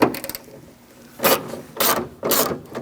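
Bolt being tightened on the exterior door handle reinforcement of a 2006-2011 Chevrolet: a quick rattle of ratchet clicks, then three close, separate rasping bursts of turning metal.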